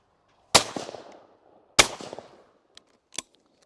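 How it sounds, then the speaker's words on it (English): Two loud shotgun blasts ring out about a second apart at an English sporting compact clay shoot, each with a fading tail, followed by a few faint clicks. "So we call pull, we're up on the A, bang, up on D, bang, and down."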